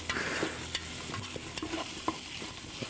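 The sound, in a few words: stirring onion, garlic and tomato paste in a pan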